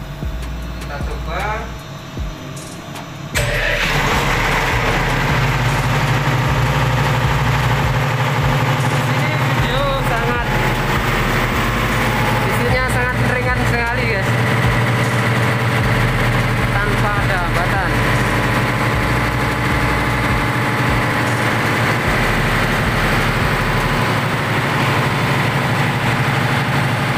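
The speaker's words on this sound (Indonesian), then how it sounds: "Sekarang saya akan running genset ini seperti yang kemarin." Generator set engine fitted with a double 150-ampere battery, briefly cranking and then catching into a steady, loud idle that drones continuously and close by, with a person talking faintly over it.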